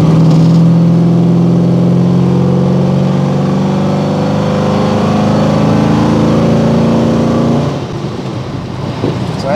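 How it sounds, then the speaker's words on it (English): Ford 302 V8 engine pulling under light throttle up a hill, a loud, steady droning hum with rising pitch for several seconds, then easing off near the end. "give it a little bit of the gas going up this hill and see if I can make the engine ping"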